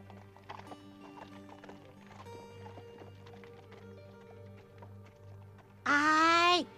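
Horses' hooves clip-clop rhythmically in an anime horse race, moderately loud, under speech in Tagalog and a musical score, ending with a sudden loud burst of a whinny or sound effect.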